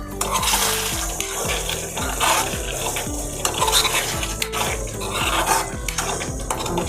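Vinegar and soy sauce are stirred into Schezwan chutney, a steady run of close spoon scraping and clinking against a pot, with sizzling underneath and no talk.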